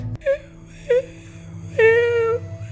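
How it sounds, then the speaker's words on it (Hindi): An eerie, wavering wail like someone crying inside a school rises in short moaning bursts, then stretches into a longer sustained cry over a low steady hum. "वो आवाज किसी के रोने टाइप थी"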